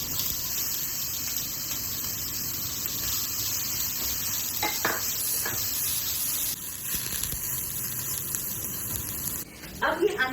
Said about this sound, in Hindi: So I am going to put the onions now.